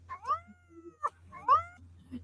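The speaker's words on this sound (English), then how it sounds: "Because when Cat is purring, Cat is a happy girl." A pet cat gives two drawn-out, rising meows close to the microphone, separated by a brief chirp, over a low steady hum.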